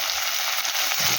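A large tomato frying in a pan for a Bengali fish curry, giving a loud, steady, close sizzle that holds evenly through the short stretch.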